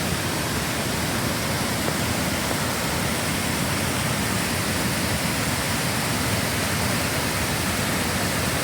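Swollen by heavy storm rain, a waterfall roars in a loud, constant broadband rush with no breaks and no voices over it.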